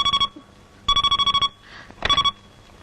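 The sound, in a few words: telephone ringing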